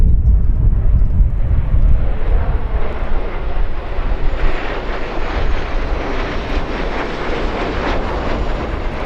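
A tanker aircraft flies over an air show, a loud, steady jet roar that stays close and slowly eases as it passes.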